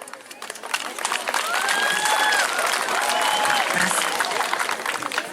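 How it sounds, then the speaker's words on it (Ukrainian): A gathered audience at a children's camp opening ceremony applauds after the director's speech, with continuous clapping that swells and holds while voices carry over it. "Оплески словам гарним директору."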